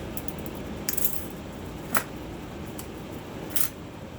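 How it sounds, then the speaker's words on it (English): Three or four sharp, brief snaps ring out from steel nippers cutting a thin glass stringer, sparse and close against a quiet background. "I actually cut mine with my nippers, so I'm going to give it a cut."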